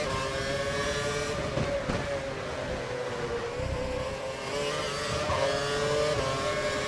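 Race car engines in a racing video game on the Singapore circuit, a steady, dense high-pitched whine and drone that continues throughout with slight pitch shifts and no talk.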